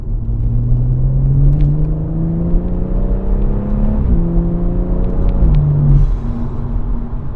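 A BMW M140i's engine pulls hard while driving, its loud tone rising steadily through the revs, dipping at a gear change, then climbing again over constant road rumble inside the car.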